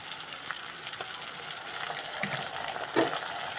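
Ginger-garlic paste sizzles in hot oil alongside fried fish, a soft steady crackle and hiss with a few light pops and utensil touches, fairly faint and close, with no talking.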